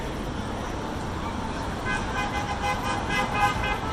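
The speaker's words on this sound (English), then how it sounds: "So still some cars honking in support, sounds like." Car horns toot intermittently amid steady highway off-ramp traffic noise during a street protest, several short honks from nearby vehicles standing out over the rumble.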